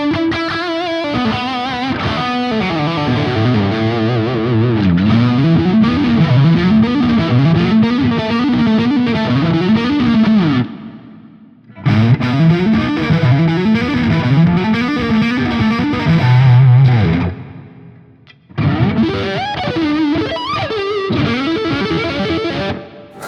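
Loud distorted electric guitar shredding fast runs and riffs through a Quad Cortex with DM Music impulse responses, with two brief pauses before the playing resumes.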